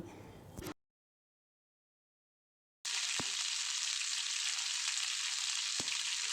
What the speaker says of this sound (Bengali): এবার আমি এই কড়ার মধ্যে ফোড়নটা ঢেলে দিচ্ছি